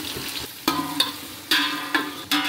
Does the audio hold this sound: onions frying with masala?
yes